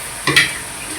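Cluster beans tipped into a hot pan of browning onion give a brief, loud double burst of sizzling and stirring that quickly settles back to a faint background fry.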